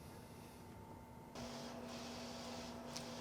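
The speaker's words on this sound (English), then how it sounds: "the printer is starting to run here" A Compress UV flatbed printer starts up, with a steady quiet mechanical hum that abruptly steps up into a broader whirring, airy drone as printing begins. A faint tick follows near the end, and no one speaks.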